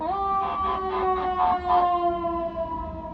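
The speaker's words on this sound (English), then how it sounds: "We've got a ambulance coming up." An ambulance siren wails steadily with a pulsing warble, fairly close and loud over road noise heard from inside a moving car, holding for several seconds.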